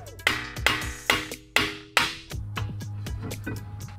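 Five sharp metallic hammer taps on an FRS's metal dust shield ring out at a steady pace, then a quicker flurry of lighter taps and scrapes follows, close and clear.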